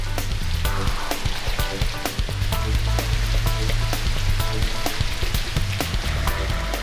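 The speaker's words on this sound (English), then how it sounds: "we should have the perfect amount of rain" Heavy artificial rain from sprinklers pours down on an outdoor test course, a dense, constant hiss and patter of drops hitting the ground, loud and continuous with no voices.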